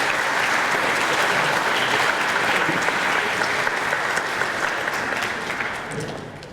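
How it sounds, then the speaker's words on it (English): An audience at a youth hustings event gives a round of applause, dense even clapping from many people that stays loud and steady before tapering off at the end. "if we have a round of applause for everyone for attending this event today."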